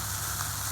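Chopped ginger, garlic and onion frying together in a pan, a dense, steady hiss of sizzling oil, close and continuous with no pauses.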